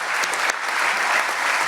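Audience applause at a trade skills competition event fills the room, a dense, steady wash of clapping from many hands, close and loud throughout.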